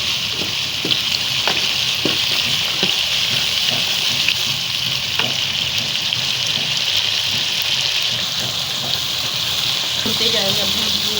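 Spices and meat masala for turnip gosht fry in a pot, a steady close sizzle with occasional clicks and scrapes of stirring, running evenly throughout.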